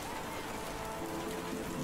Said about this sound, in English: this constant onslaught of lukewarm rain isn't exactly helping